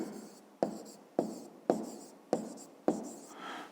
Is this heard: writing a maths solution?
yes